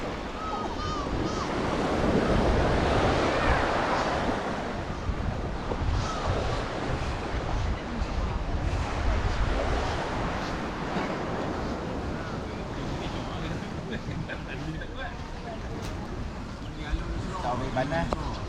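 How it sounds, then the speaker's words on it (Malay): Strong wind and surf along a beach on a kayak fishing outing as a storm approaches, with continuous loud roaring wind buffeting the microphone over crashing waves, and talk faintly beneath. "Tak boleh buat apa, angin kuat."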